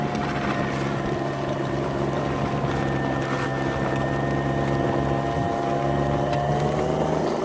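A Spyker KAT 2X pulling a full dump trailer of snow and pushing into fresh snow, its motor giving a steady, droning whine and hum that stays even throughout, close by.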